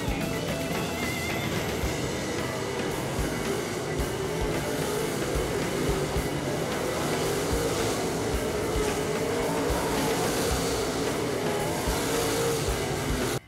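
Race cars tearing around the dirt oval at Plymouth Speedway, their engines roaring loud and continuous as they slide sideways through the turns.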